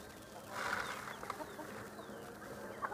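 Chickens cluck softly in the background on a farm, with faint bird calls over a low outdoor ambience.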